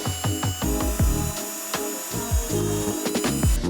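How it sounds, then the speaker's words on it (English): A power drill boring straight through a wooden heel plate for a push stick, with a close, loud grinding whir and repeated knocks as the bit bites into the wood. "Put the heel plate on the end and drill straight through."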